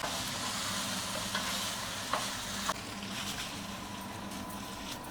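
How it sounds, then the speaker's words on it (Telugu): Chicken fried rice sizzles and crackles in a hot pan as it is stir-fried at home with salt and vinegar, a steady close hiss broken by a few sharp scraping clinks. "ఇప్పుడు ఐలోనే ఉండాలి, అప్పుడే చట్టపట అంటుంటది"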